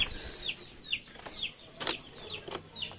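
Three golden hens in a backyard cage clucking, a series of short rising calls repeating about every half second, close and moderately loud with a little rustling between them.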